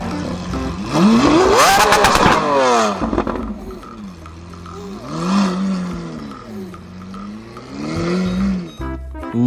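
A toy Lamborghini car gives off an electronic engine sound effect: a loud revving rise, then a repeated looping motor drone that swells and dips several times, heard alone.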